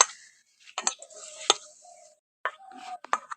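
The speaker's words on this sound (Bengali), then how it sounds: "তো এবার ভালো করে মাখিয়ে নেবো" Biscuit dough, made with coconut powder and no water, worked by hand in a bowl: soft, intermittent squishing and clicking handling sounds in short irregular bursts, close and fairly quiet, with silent gaps between.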